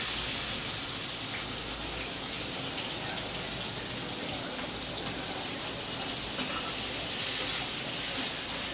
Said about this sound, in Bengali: এখানে আমি পকোড়া ভাজছি